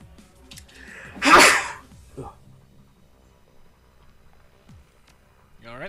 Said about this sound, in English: Yeah, sorry, just a sneeze.